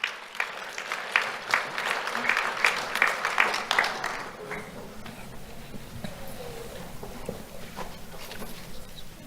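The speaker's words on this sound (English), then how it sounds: "Let's have a round of applause for Kevin." Applause from an audience at a sheriff's office awards ceremony for students, a dense burst of clapping for the first four seconds that thins into scattered claps and room noise.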